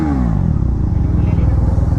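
Duke 390 or Pulsar 125 motorcycle revving through its exhaust, a loud, close, throaty rumble building over two seconds, with a voice partly over it.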